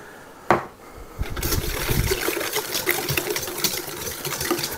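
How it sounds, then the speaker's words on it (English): Melted butter is poured into a cake batter mixture, a brief knock followed by a steady, soft liquid pour lasting a few seconds, close and quiet with no talking. "a quarter of a cup of melted butter, which I already melted just for fast purposes. Pour that right in."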